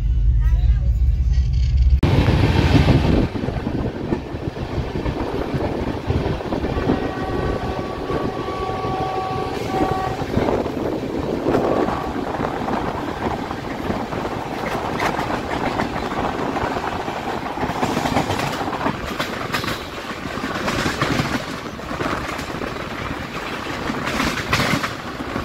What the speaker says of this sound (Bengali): এখন এই জাস্ট হারদই স্টেশন থেকে ছাড়লো, আর ট্রেন একদম রাইট টাইমে চলছে